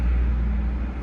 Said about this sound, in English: Big ass truck.